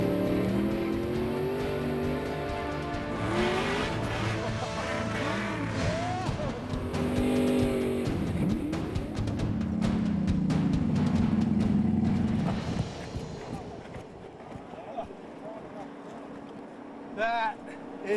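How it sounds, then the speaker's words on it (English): A vehicle with huge paddle tires churns across volcanic pebbles near a volcano, its engine roaring and revving loudly with gritty crunching, while excited voices talk and shout over it. "the huge paddles on the tires power through it."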